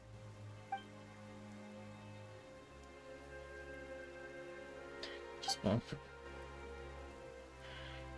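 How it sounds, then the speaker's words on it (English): Rain falls in Genshin Impact as a steady, soft patter under game music, with a person talking over it. "Why is it raining all of a sudden?"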